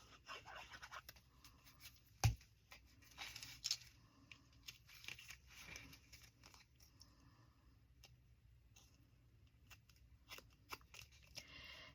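Scissors snip through cardstock in a papercraft ephemera project, with a sharp cut near the start and softer cutting and rustling after it, close and fairly quiet.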